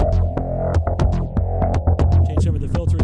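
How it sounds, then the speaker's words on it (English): Synth bass patch from the Spectrasonics Trilian iPhone app: a loud, throbbing low bass line pulsing in a steady rhythm with bright clicky accents on top, close and continuous with no talk. "Let me show you some of the synth bass stuff."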